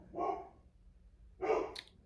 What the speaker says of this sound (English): My dog just went nuts on the neighbors, and they were just standing in the front yard, so he barked for like 10 minutes.